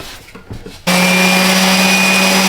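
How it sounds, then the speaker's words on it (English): A power sander starts abruptly on handmade wooden boxes, a loud steady whine with a strong hum that runs unbroken for nearly two seconds after brief handling noises. "now it's just a matter of going through each one of these boxes and getting them sanded"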